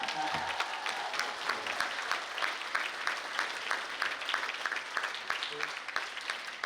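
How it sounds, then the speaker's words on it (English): Audience applause at a stage event honoring student athletes with Pro Football Hall of Famers, a moderately distant, steady patter of many hands clapping throughout. "So let's give them a round of applause."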